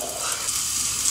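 Künefe made with shredded kadayıf pastry fries in a pan over medium heat, giving a steady, close sizzle with no talking.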